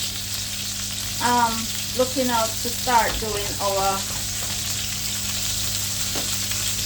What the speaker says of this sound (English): we're just waiting for our chicken to finish frying